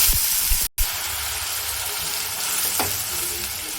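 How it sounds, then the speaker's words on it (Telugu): Mustard seeds, cumin and an onion-mint paste fry in hot oil for a chole masala curry, a steady broadband sizzle with a few close stirring scrapes and a brief dropout near the start. "నూనె వేడైన తర్వాత ఆవాలు, తర్వాత జీలకర్ర, మనం ముందుగా మిక్స్ చేసి పెట్టుకున్న ఆనియన్ అండ్ పుదీనా పేస్ట్"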